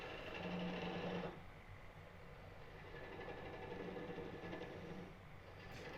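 A wood lathe hums steadily while turning a live edge bowl, a low mechanical drone with a brief louder whine at the start, then softer, even running with faint tool contact.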